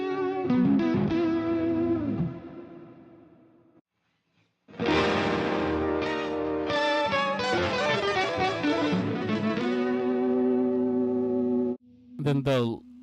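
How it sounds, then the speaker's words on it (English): Electric guitar run through heavy modulation, reverb and chorus effects plays sustained, warbling chords that ring out, cut to a brief silence, then return in a dense shimmering swell before a short final burst. "weird modulated stuff that's like got a lot of like modulation, reverb, chorus"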